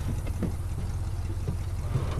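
A vehicle engine idles steadily in The Last of Us video game, a low continuous rumble holding at an even level throughout with no speech.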